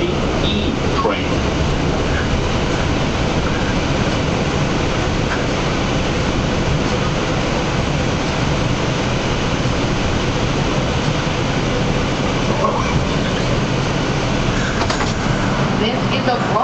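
A Bronxbound New York City subway 4 train runs steadily, its loud, continuous rumble and rattle filling the car from start to finish with a few faint squeals, and no one speaking over it.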